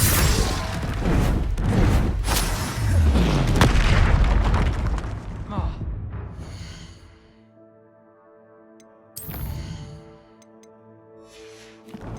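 Spellcasting in Hogwarts Legacy, Expelliarmus and Defendo, heard as a run of loud blasts and crashing impacts followed by a quieter musical stretch broken by one sharp burst.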